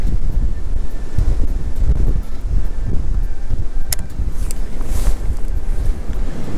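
Steady wind buffeting the microphone on a Dutch fishing waterside, a continuous low rumble with gusty swells and faint rustling, loud and close throughout with no talking.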